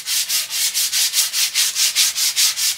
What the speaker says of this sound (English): Next step then is sand it. Sanding will knock off all those little facets we have left.